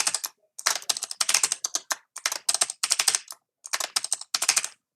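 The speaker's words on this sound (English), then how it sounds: "Let's type in our password." Rapid bursts of key clicks on a computer keyboard as a password is typed, close and fairly quiet, grouped into short runs with brief pauses and no talking.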